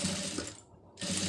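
Sewing machine running a line of stitching on fabric, a steady close whirr that briefly dips and then resumes.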